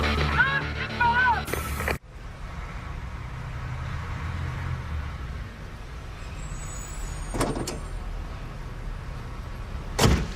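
A taxi car door slams shut with a single firm thump after a passenger's brief talk, then the cab idles in steady low rumble with a couple of sharper clunks later on.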